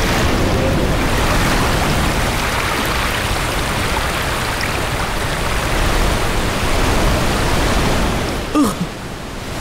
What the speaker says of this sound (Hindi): अरे ये तो पानी है। ये तो बाढ़ आ गई।